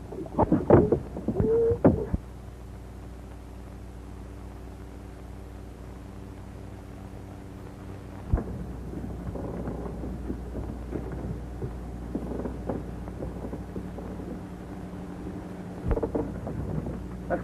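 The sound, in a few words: thunderstorm at sea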